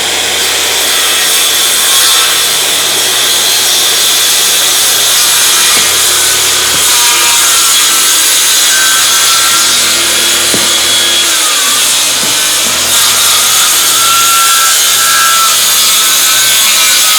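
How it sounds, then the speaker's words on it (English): A power saw cuts steadily through wooden floor sheathing on a framed floor, its loud continuous whine and rasp running close and unbroken with no talk. "So we'll go ahead and make these cuts."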